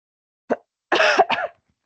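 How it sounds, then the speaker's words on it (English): A short, sharp cough, followed after a pause by a longer rough burst of coughing and throat sounds, close and fairly loud. "That was my cough that did that"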